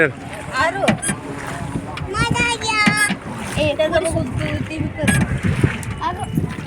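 A small boat ride on the Chandrabhaga river, with water splashing and sloshing close by and children chattering and shouting excitedly throughout.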